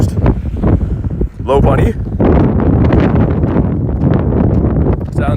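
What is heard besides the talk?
strong wind blowing into the microphone outdoors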